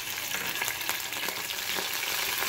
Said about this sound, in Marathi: त्या तेलामध्ये थोडंसं आलं लसूण पेस्ट, थोडं सोया सॉस,